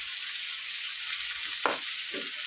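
Onions sizzle in hot oil in a pan with salt added, making a steady close hiss with a brief stir-like rustle partway through.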